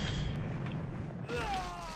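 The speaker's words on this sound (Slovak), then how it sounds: "Au, to bol riadny výbuch." A loud, continuous rumbling explosion from the 1999 Windows video game Redline: Gang Warfare 2066, a broadband roar filling the whole moment, with a rising whine coming in partway through.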